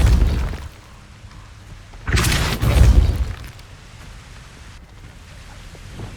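A Depulso spell impact in the Hogwarts Legacy video game, with a sudden loud crashing burst lasting about a second amid low ambient rumble and a faint later thud.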